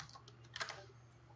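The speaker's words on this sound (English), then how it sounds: "I'm hitting end on the keyboard, and then I'm hitting enter, and then I'm holding control and hitting V" Several quick keystrokes on a computer keyboard, including end and enter presses, light close clicks in a short cluster over a faint steady background hum.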